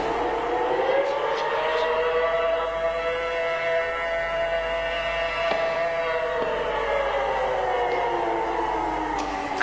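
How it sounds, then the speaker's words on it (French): Prison alarm siren at a high-security prison during an escape, a loud sustained wail rising and falling in pitch across the whole stretch, with faint background noise beneath. "Mettez la sirène en marche."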